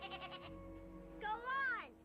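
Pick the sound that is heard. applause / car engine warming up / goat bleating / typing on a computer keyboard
goat bleating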